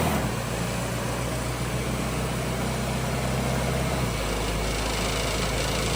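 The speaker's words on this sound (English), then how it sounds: "You can hear it shift." A 1971 Cutlass with a 4L80E automatic transmission idles steadily with a low engine drone, the pitch dropping slightly near the end as it shifts into a lower gear.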